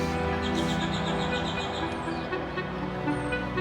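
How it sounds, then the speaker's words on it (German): Birds chirp and tweet faintly in a forest over a steady, dense background hum, with small high calls scattered throughout. "Ein Waldstück mit Vogelgezwitscher, Windgeräusche in den Bäumen, kleine Tiere im Unterholz."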